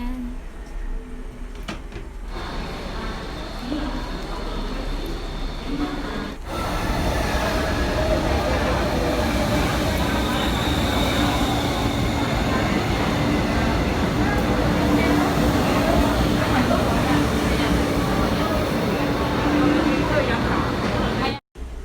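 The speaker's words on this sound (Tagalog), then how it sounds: "sakay na tayo ng train." A train ride with a steady rolling rumble and rattle of the rail car throughout, loud and close, with voices faintly underneath.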